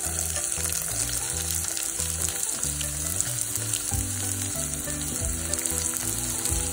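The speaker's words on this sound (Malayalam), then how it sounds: "സവാളയും ചേർത്ത് നന്നായിട്ട് വഴറ്റി കൊടുക്കാം." Onions sautéing in oil for chilli paneer, a loud, dense continuous sizzle close up with faint stirring movement underneath and no voices.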